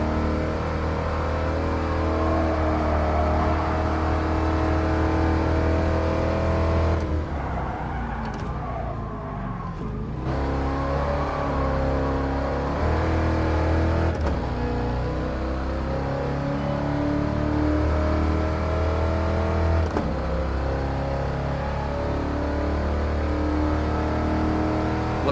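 A 1978 Trans Am engine in the Gran Turismo Sport video game, racing a 2014 BMW M3, a loud continuous drone that rises and falls through gear changes and briefly dips midway, with no speech.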